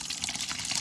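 Hot rendered lard, just taken off an open fire, pours into a jar in a brief, steady liquid splash up close.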